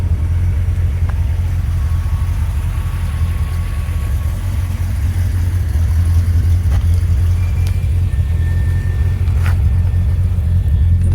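A 1969 Corvette with an aftermarket stainless steel exhaust drives along, its engine a steady, loud low rumble heard from inside the car without pause, with faint rattles on top.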